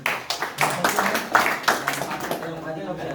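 Group of trainees at an Indonesian labor union training session claps hands in short rhythmic bursts, fairly close, with voices talking between and over the claps.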